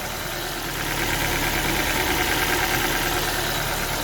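A car engine idles steadily, a continuous mid-pitched rumble with a faint knocking texture and no voices.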